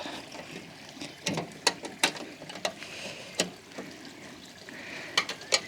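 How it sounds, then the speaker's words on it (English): A spanner tightens bolts on a Cobra Fortis 17E cordless lawnmower, giving sharp close metallic clicks and ratcheting taps at irregular intervals over quiet background noise. "then just using the spanner to tighten those up"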